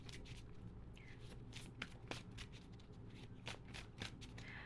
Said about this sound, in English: We're going to pull a couple more oracle